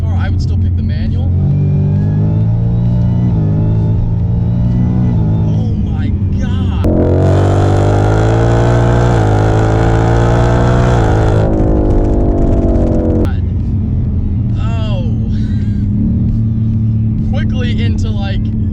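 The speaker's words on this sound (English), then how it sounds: "I can't believe it revs that high." A 700 hp 2018 Ford Mustang with a 10-speed transmission accelerates hard. The engine roars loud and close, climbing steadily to a high, sustained rev before easing back to a lower drone.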